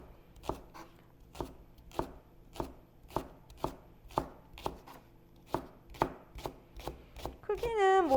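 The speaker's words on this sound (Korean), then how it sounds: "이렇게 송송송 썰어서" A knife slices vegetables into thin rings on a cutting board, about a dozen crisp, evenly paced chops close up, with a voice starting just at the end.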